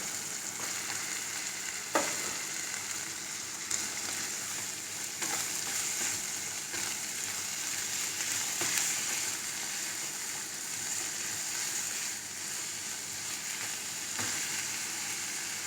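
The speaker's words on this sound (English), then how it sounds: "very finely chopped onions. This is 2 big onions I have taken. Let's fry all of this nicely." Two big, very finely chopped onions fry in a pan, making a dense, even sizzle that runs for the whole stretch with occasional faint stirring taps, close and without talk.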